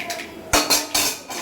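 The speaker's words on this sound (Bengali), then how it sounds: "এখন সর্ষেটা একটু হাতা দিয়ে কেটে দিলাম" Several sharp metal-on-metal clinks and scrapes from a ladle working mustard in a metal cooking pot, close and fairly loud, a handful of distinct strikes in quick succession.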